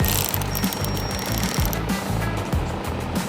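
A steady, rapid mechanical rattle from a power tool removing a 10mm bolt from the passenger fender of a 2018 Toyota RAV4, loud and close, with a pulsing low rhythm.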